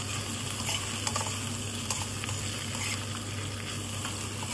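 Snails (kuhol) for sisig, already sautéed with ginger and spices, fry toward crispness with a continuous even sizzle and occasional faint stirring scrapes, and no voices.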